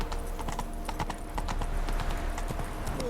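Hooves of Roach, the horse in The Witcher 3, clip-clop in a quick, steady rhythm, close and prominent over a low game backdrop, with no talk.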